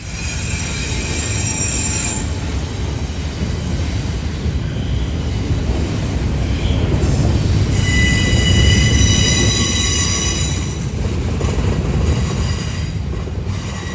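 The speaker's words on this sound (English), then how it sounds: "it was still impressive to see two lumbering locomotives take on the Wilbur Curve with ease" Train wheels squeal with high, sustained metallic tones over a heavy rolling rumble as two locomotives and railcars grind steadily around the Wilbur Curve in Easley, South Carolina.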